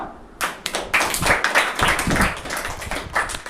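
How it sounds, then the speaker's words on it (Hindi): Students clap to welcome prize winners at a school Hindi reading event, a burst of many hands starting abruptly and continuing densely and unevenly, fairly close and loud, with no talk over it. "उनको जोरदार ताली से स्वागत करिएगा"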